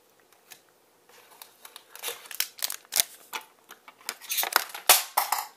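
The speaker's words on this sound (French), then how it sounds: "Ah, j'ai fait tomber mes ciseaux." A pair of scissors drops and clatters among cards and booster-pack wrappers on a tabletop. It is followed by a quiet run of close, crisp clicks, rustles and crinkles, with no talking.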